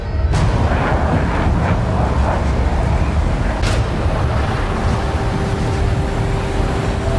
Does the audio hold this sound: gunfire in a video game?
yes